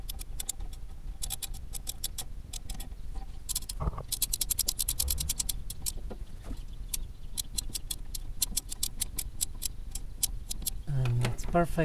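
A ratchet wrench tightens new brake bolts coated with Loctite, giving repeated quick clicking bursts up close, with bits of work noise and brief speech in between.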